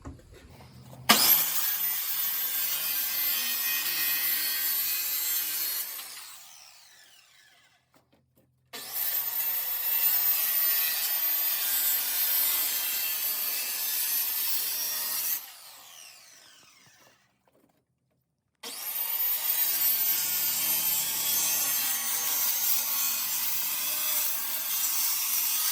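A hand saw cuts through a wooden layout board being made into the transom of a small wooden punt-style boat, three long bursts of rapid rasping strokes separated by short pauses, close and clear with no talking.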